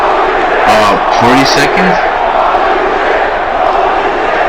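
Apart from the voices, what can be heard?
wrestling crowd shouting in shock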